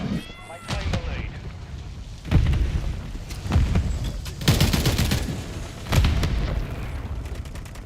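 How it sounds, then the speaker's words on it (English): In Modern Warfare 3, a thrown Semtex grenade goes off amid a heavy firefight, with booming blasts and bursts of gunfire rising and falling over several seconds as voices speak underneath. "Throwing Semtex."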